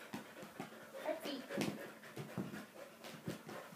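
Dog panting in quick soft breaths with occasional small whimpers, close and faint, while a person speaks quietly in encouraging tones.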